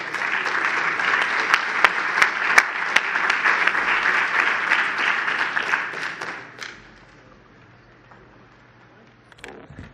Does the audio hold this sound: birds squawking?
no